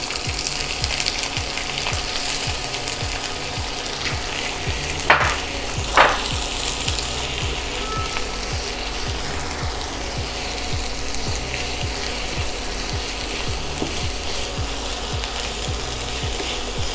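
Onion frying in a pan to a crisp, cooked with cardamom: a dense, steady sizzle throughout with a rapid rattling crackle underneath, close and loud, plus two brief sharp clinks near the middle; nobody speaks.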